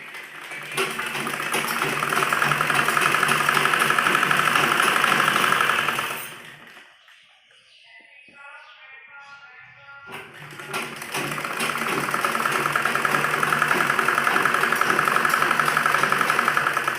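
Sewing machine stitching a half-inch seam on a kurti, a loud continuous whirring run that stops for a few seconds in the middle and then starts up again with the same steady hum.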